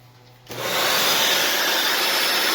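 A 3D-printed mini Dyson-style vacuum with a Shark power head switches on, jumping from near silence to a loud, steady high-pitched whooshing whine that holds close and unbroken.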